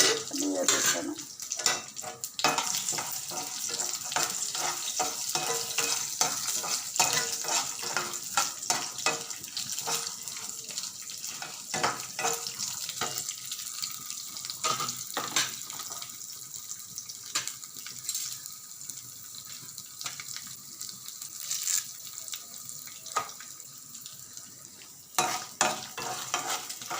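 Peanuts, urad dal, chana dal and mustard seeds fry in oil with a dense, crackly sizzle that carries on throughout, with spatula stirring and a brief burst of running water, and no talk.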